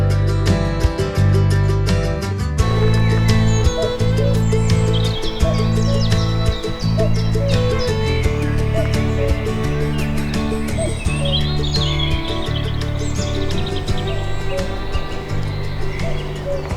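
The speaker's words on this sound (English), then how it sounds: "the bird song is unbelievable right now" Birds chirp and sing in a forest, many overlapping calls and tweets spread across the scene, some near and some farther off, over a constant low hum.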